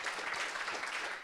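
An audience at a Progressive Change Campaign Committee training session claps in a short, even burst of applause.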